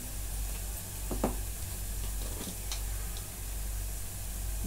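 Onion and curry leaves frying in a pan for sambar, a steady faint sizzle with a few brief stirring scrapes, no talk.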